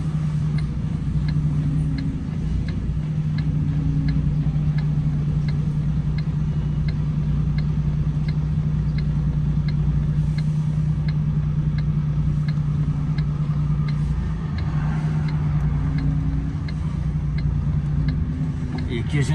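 A vehicle engine idles steadily in the background while being parked before machines are unloaded, a low continuous hum with a faint regular ticking on top, close and constant throughout.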